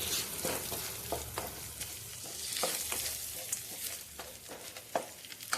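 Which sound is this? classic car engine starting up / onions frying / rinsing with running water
onions frying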